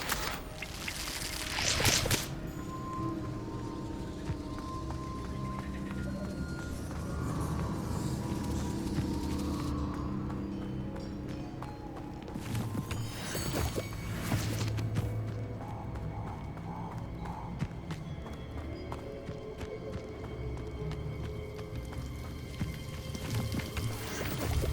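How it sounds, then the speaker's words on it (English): A waterfall in Hogwarts Legacy gives a steady, soft broadband rush of falling water that runs unbroken, with a few brief louder splashes and knocks rising over it. "The waterfall."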